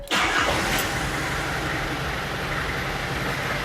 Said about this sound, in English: the moment you hear the sound of that engine. It's unmistakably a London taxi cab.